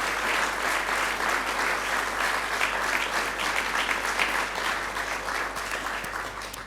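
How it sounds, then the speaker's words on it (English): An audience applauds at a public conversation event, dense continuous clapping from a large crowd that holds steady throughout at moderate loudness. "can you keep those applause going for our Auslan interpreters"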